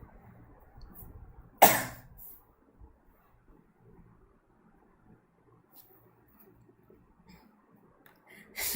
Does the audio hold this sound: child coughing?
yes